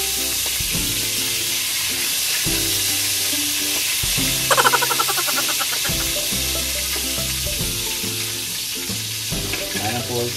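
Filipino pork steak sizzles loudly and steadily in a hot frying pan, a dense continuous crackle with occasional stirring and scraping sounds layered on top, close and without talk.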